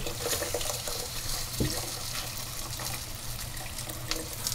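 Hot water pours steadily into a pot of Persian celery stew, a continuous close rushing splash for about half a gallon, with one brief knock partway through and no speech.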